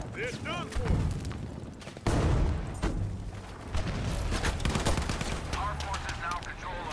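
Battlefield 5 battle scene with rapid machine-gun fire and a heavy tank shell blast landing close by, followed by continuing gunfire and booms, with voices talking over the action.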